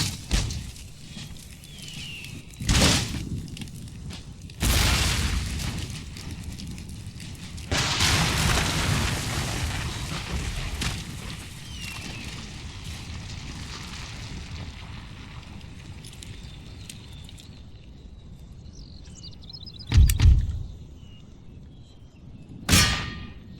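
Cannon fire in Empire Total War, several sharp booming blasts spaced irregularly, a heavy volley around the middle that rolls on for a few seconds, and two more shots near the end.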